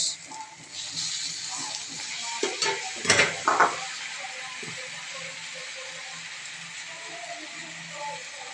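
Noodles being stirred and fried in a pan give off a soft, low sizzle, broken by a brief cluster of scraping clinks from a utensil against the pan midway through.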